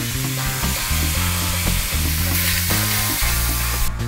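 Minced meat sizzling and frying in a hot pan for chili con carne, a steady loud crackle with a few stirring scrapes, no voices.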